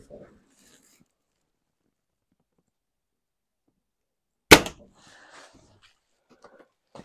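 A single sharp air rifle shot, an H10 firing JSB pellets, cracks out loud and close after a stretch of near silence, followed by faint rustling and handling noise.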